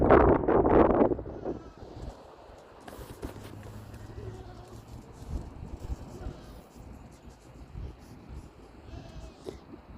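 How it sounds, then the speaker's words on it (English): Sheep and goats at a farm during lambing season, with a loud cluster of bleats near the start, then quieter outdoor ambience with wind buffeting the microphone and faint animal calls further off. "See the sheepies and the goats."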